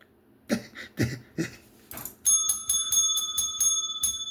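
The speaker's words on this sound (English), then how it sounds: "The bell has rung." A bright metallic bell rings repeatedly in quick succession, loud and close, with sustained ringing overtones, following a few dull thumps.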